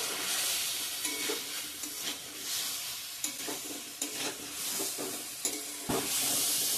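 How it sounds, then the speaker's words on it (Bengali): Potato, cauliflower and soybean chunks stir-frying with spices in hot oil, a steady close sizzle broken by repeated scraping and clacking of a spatula against the pan. "ভেজে রাখা আলু, ফুলকপি, সয়াবিন দিয়ে দেবো। আবার ভালো করে কষিয়ে নেব মশলার সঙ্গে।"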